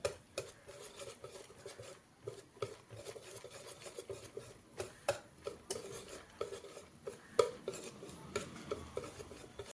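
A spoon stirs rava idli batter mixed with curd in a bowl, giving soft, steady scraping and wet patter with irregular clicks against the bowl, close and fairly quiet, with no talking.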